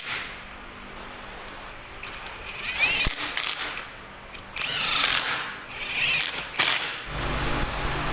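A hand ratchet clicks in several short bursts, tightening the pump bolts on an NP231 transfer case in a workshop, with quieter rubbing and handling sounds between the bursts.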